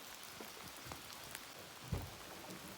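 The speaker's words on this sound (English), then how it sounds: "Still very much raining." Steady rain falls during a backcountry canoe trip in Algonquin Park, a continuous soft hiss with scattered drop taps and one louder close splash.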